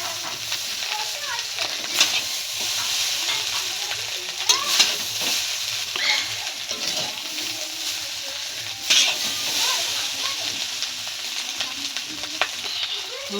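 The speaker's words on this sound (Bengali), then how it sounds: "ভালো করে মিশিয়ে নিতে হবে।" Chow mein tossed with mixed vegetables in a hot pan, giving a steady loud sizzle and hiss with occasional scraping and clinking of the spatula, close up and continuous with no clear talking.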